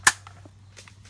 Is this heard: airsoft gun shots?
yes